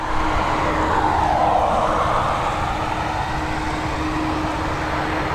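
Airbus A330 engines rumble and roar at a Dublin Airport runway, a loud continuous jet drone with a swelling whoosh midway and a steady tonal hum beneath, no voices.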